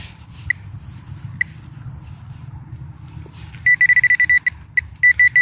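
A metal detector sweeps over two quarters lying together in the ground. The electronic tone breaks out late as a fast string of bright, clipped beeps over steady low rumbling.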